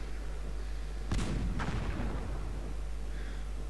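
Cannon fire in a Cossacks 2 Napoleonic battle at Hougoumont: two heavy booms about half a second apart, the first louder with a rumbling tail, over a steady low battlefield hum.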